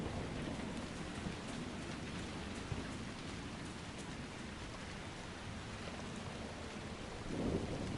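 Steady heavy rain and thunderstorm ambience in the video game Dragon Age Inquisition, a dense continuous hiss of falling rain with a low rumble swelling near the end, no talk.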